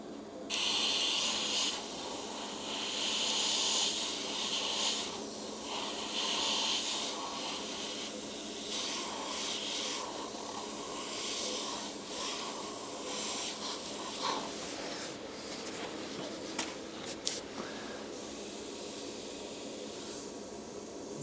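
An airbrush sprays paint in steady hissing bursts for 50s-style artwork, close and continuous with brief pauses and a few small clicks near the end, and no talk.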